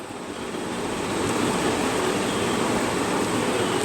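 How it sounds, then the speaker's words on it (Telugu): Rice for gongura pulav bubbles at a rolling boil in a pot, a dense, steady hiss and gurgle that swells slightly after the first second and stays constant, with no voices. "ఇప్పుడు ఉడుకుపట్టింది"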